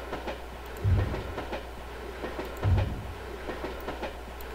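A national railway limited express train departs in the railway-building video game A-Train 9, a steady rolling rumble with two heavier rhythmic clickety-clack thumps of wheels over rail joints, no talk over it.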